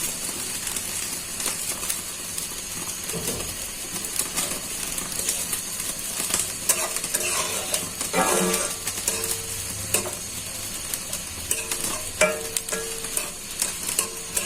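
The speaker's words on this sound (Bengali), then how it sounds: "ভালো করে পেঁয়াজটা ভাজা হয়ে যাক।" Sliced onions fry in hot oil in a kadai while being stirred: a steady, close sizzle with repeated scraping and clacking strokes of the spoon throughout.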